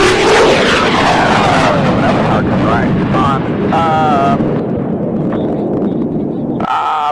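Loud fixed-wing aircraft roaring past overhead, a broad sustained rumble with a whining engine tone that holds strong throughout, with voices talking over it.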